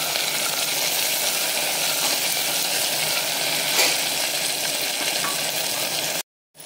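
Chopped tomato sizzles in hot oil in a pan while kadhi is being cooked, giving a steady, loud frying hiss that runs on unbroken until it cuts off abruptly near the end.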